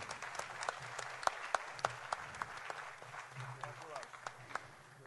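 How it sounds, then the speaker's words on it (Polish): Audience applause at an award ceremony, a modest group clapping with distinct individual claps, fairly faint, with a person talking over it. "duże brawa, dziękujemy."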